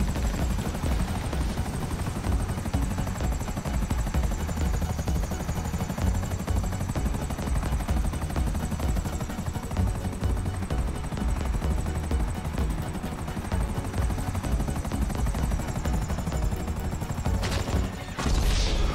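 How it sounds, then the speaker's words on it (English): A helicopter in the GTA 5 video game roars steadily under heavy gunfire, rotor and engine noise continuous and loud, ending with a crash near the end as it is shot down. "Well, chopper's down."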